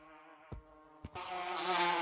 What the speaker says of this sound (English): Uh-oh, the bees are after me.